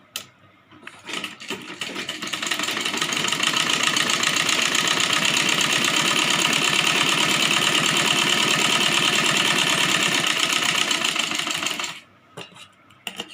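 A sewing machine stitches fabric for a Rajputi kanchali blouse, running in one steady, fast mechanical whir for about ten seconds, then stopping, with a few clicks before and after.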